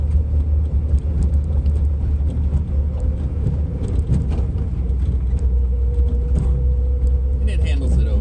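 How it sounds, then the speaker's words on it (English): A Datsun 240Z rolls over a bumpy road, its engine and road rumble a steady loud drone from inside the car with occasional knocks and rattles, while someone talks over it. "I'm going down a pretty bumpy road right now."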